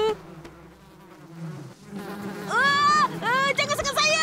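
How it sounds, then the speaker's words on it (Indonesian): Cartoon bees buzzing, a loud close whine that rises and wavers in pitch over several swells, with a low murmur of background sound beneath. "Alamak, lebah!"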